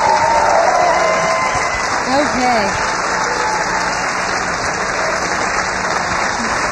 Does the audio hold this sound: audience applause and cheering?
yes